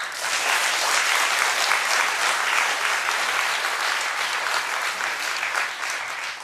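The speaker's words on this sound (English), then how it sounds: "Clap if you know what they mean." Studio audience applause on a daytime talk show, a steady, loud roar of many hands clapping that holds throughout and fades slightly at the end, with no talk on top.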